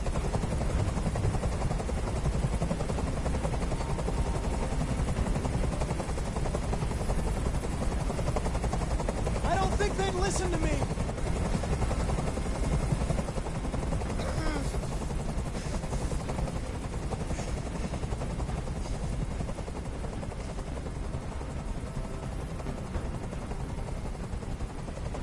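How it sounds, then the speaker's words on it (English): A helicopter hovers in the video game Detroit: Become Human, a constant heavy rotor rumble filling the whole scene while someone talks over it. "Tell that helicopter to get out of here."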